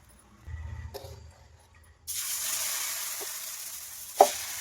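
Sprouted millet dosa batter hits a hot griddle and sizzles steadily, loud and close, with a couple of sharp scraping clicks and a soft thud before the sizzle begins.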